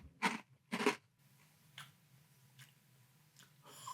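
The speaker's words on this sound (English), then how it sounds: "It had a great crunch. Maybe you even heard that as I bit down into it." Two loud crunchy bites into dry 3 Wishes Pumpkin Spice cereal, close up, followed by quieter chewing crunches at irregular intervals.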